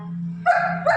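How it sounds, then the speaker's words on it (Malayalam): A dog gives two quick barks close by, following a low droning hum in the background. "ഇവനാ കുരയ്ക്കണത്, ഇവിടുത്തെ പട്ടിയാണ് കുരയ്ക്കുന്നത്."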